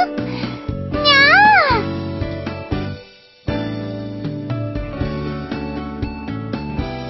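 A high, playful voice imitates a cat's meow, drawing out a rising and falling "meow" several times amid bright background music.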